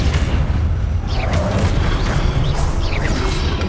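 The Expelliarmus spell is cast in Hogwarts Legacy, a loud continuous wash of booming, crashing combat effects with whooshing and mechanical clatter over several seconds.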